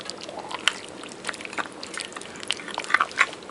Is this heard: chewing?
yes